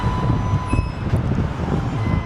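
Steady low rumble of a metro train passing close by in a city, a continuous rolling roar with a faint high whine, no voices.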